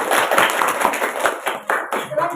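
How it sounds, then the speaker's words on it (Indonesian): Classroom applause for a student group at an Islamic teacher-training session in Cirebon, a burst of close hand clapping lasting a couple of seconds and tapering off, with some voices mixed in. "tepuk tangan atas untuk kelompok visual"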